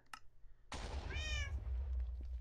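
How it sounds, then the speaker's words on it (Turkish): A single sharp thump, then a clear, close cat meow in Minecraft rising and falling, followed by low rumbling noise. "O miyav sesine gidiyor herifler ha"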